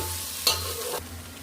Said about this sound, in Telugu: అన్ని వెజిటేబుల్స్, అల్లం వెల్లుల్లిపాయ, పసుపు వేసాను. కొద్దిగా వేగాక టమాటాలు వేసాము.